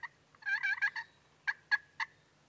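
A turkey call imitates a hen's purr and putts, with a quick rolling run of clucks followed by three separate sharp putts, close and faint with no talking.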